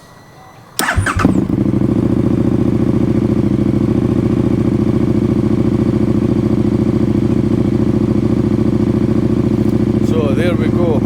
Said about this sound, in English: And we'll start the engine.